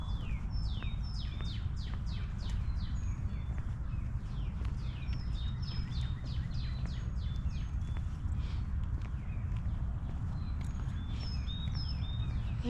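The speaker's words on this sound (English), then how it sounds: "I like the sound of the birds." Small birds sing along a green nature walking trail. Quick, high chirps and twitters repeat throughout, fairly faint and distant, over a steady low outdoor rumble.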